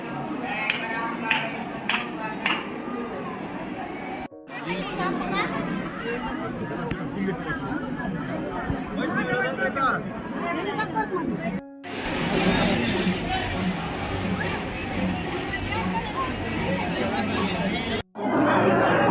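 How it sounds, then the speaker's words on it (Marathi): A dense crowd of pilgrims queues inside Tuljapur temple on a busy Tuesday, their overlapping chatter forming a loud, continuous babble close around the listener. "आज मंगळवार असल्या कारणाने एवढी गर्दी लागली आहे"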